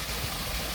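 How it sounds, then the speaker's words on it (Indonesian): A small stream running beside rice fields gives a constant broadband rush of flowing water, close and steady, with no voices over it. "Kita mau turun ke sungai kecil. Kita lihat gemericik air."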